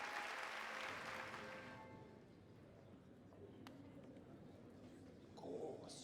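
Crowd applause from the Hollow Knight video game, a broad wash of clapping that starts loud and then thins out over several seconds, with faint game sounds and a brief swell near the end.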